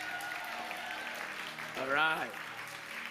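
Church congregation clapping at a Life Class service, a continuous soft patter of applause under a voice speaking briefly.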